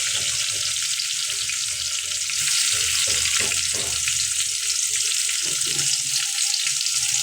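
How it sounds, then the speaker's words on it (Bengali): Chillies, chopped onion and garlic fry in hot oil with a steady, loud sizzle, broken by scraping stirs and clinks of a spatula against the pan. "এটাকে ভালোভাবে নেড়ে চেড়ে ভেজে নেব।"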